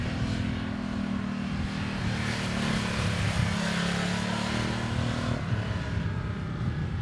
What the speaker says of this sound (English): Ducati's engine and exhaust sound so much better